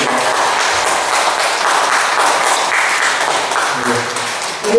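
An audience at a special education session claps for a lecturer, producing sustained, dense, close applause that fades slightly at the end.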